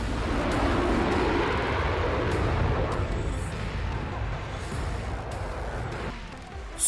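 Rafale fighter jet flying overhead: a loud, steady broadband roar of engine noise that holds through the clip and eases slightly toward the end, with no voices.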